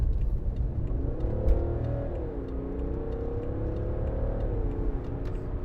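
A 2015 BMW 535d diesel saloon accelerates hard from inside the cabin, its engine note rising and dropping through gear changes over a steady loud road rumble, with no talking.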